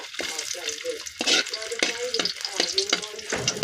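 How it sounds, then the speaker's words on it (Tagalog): Ingredients sautéing in a hot pan for shrimp dish, a loud, close, continuous sizzle broken by repeated scraping stirs of a utensil. "gisa na natin itong ating mga lamas"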